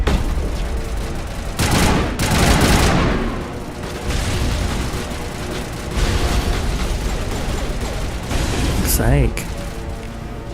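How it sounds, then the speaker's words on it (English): Bursts of gunfire in the Mass Effect video game during the Asteroid X57 mission: loud overlapping volleys and booming shots roll through most of the stretch, with someone talking over the fighting. "Where's everyone shooting from?"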